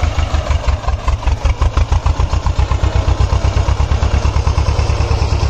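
An antique T25 tractor engine running close by, a loud steady mechanical chugging with rapid regular low thumps and some clatter, alone without talk.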